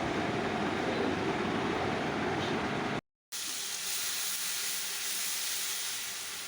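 Ginger garlic paste sizzles loudly in a hot pan, a dense steady hiss that cuts out briefly and returns slightly calmer, with no talk over it.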